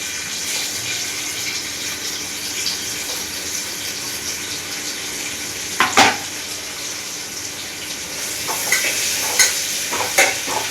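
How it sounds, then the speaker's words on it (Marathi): Long thin slices of onion frying in hot oil give a steady close sizzle, with a few sharp scraping clicks from stirring toward the end and no talk. "तेल चांगलं गरम झालंय. त्याच्यानंतर त्याच्यामध्ये हा जो बारीक म्हणजे लांब लांब कापलेला कांदा आहे तो कांदा टाकते."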